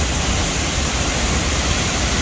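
An upper waterfall above La Paz Waterfall, Costa Rica, thunders as a dense, steady wall of rushing water, loud and close, with no voices over it.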